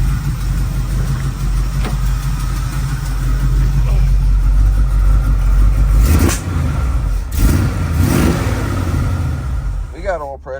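A car engine runs rich after carburetor work, idling with a steady low rumble and rising in a couple of revs. Someone talks over it up close.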